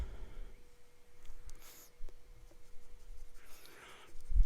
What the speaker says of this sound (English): So do an ink swatch here.